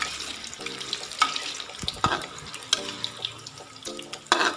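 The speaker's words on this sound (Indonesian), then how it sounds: "setelah minyak panas, lalu kita masukkan kentangnya dan kita goreng deh" Potatoes for french fries dropped into hot oil give a steady close sizzle with scattered sharp crackles and pops throughout, and no voices.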